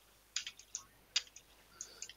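Computer keyboard keys tapped in short, scattered clicks, a few sharp presses with gaps between them, faint against a quiet room.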